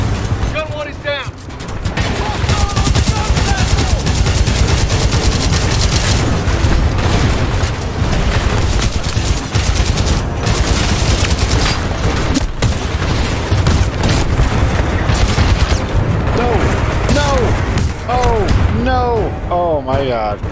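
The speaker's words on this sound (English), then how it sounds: "Cooper, we can't move up while those guns are firing" Dense, sustained gunfire and booming explosions from a battle in the video game Titanfall 2, loud and continuous with machine-gun bursts throughout.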